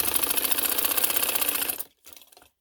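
A sewing machine stitching a designer shalwar rattles in a fast, rhythmic run close by, stops abruptly, then gives a short second burst before falling silent.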